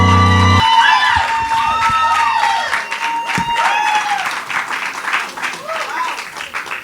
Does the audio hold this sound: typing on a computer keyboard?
no